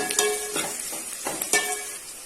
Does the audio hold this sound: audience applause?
no